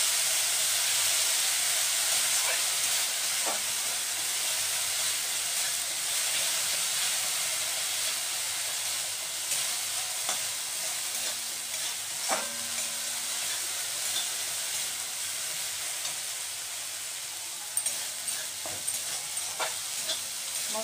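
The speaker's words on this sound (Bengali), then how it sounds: "মশলাটাকে একটু ভালো করে কষিয়ে নিতে হবে।" Mustard spice paste sautéing in a pan for a Bengali drumstick (sojne) curry, giving a steady sizzle with occasional stirring scrapes and light clicks throughout, no talking.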